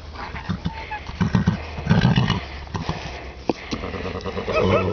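Horses move about nearby, hooves clopping in short irregular bursts among rustling and scuffing, with some faint background voices.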